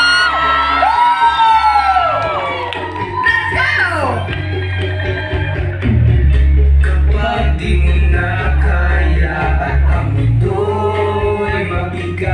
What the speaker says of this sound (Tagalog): Isa pa namang sigawan!